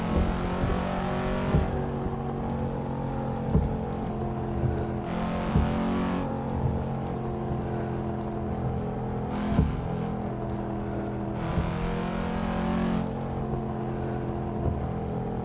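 A truck engine in the Euro Truck Simulator game, steadily droning and humming, with brief swells and periodic hissy bursts of noise over about fifteen seconds, without any voices.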